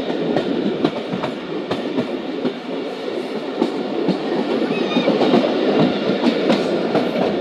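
Passenger train running on rails in Pakistan near Pattoki, heard from on board, with a steady loud rumble of wheels and repeated clickety-clack rail-joint beats throughout, with no talking.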